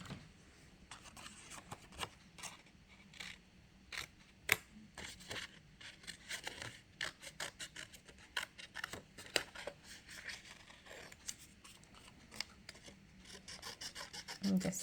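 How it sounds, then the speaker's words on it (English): Scissors snip through paper while a fish outline stencil is cut out for an overlap drawing lesson, giving close, quiet, irregular crisp snips and rustling scrapes over a faint steady background. "now I am going to cut it using my scissors"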